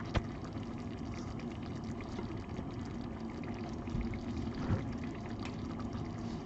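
Sparkling water is poured into a glass in a kitchen, a steady fizzing, gurgling stream with small bubbly crackles, faint and continuous for several seconds without speech.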